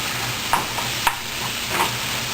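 Seasoned hamburger meat is stirred in a hot pan, a steady sizzle with a few soft scrapes and knocks of the utensil, close and alone.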